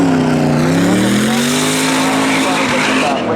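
Spectator drag race cars at a season-finale thrill show, roaring loudly as they race and accelerate down the strip, one engine rising in pitch, with tire squeal and a race announcer talking over the noise throughout.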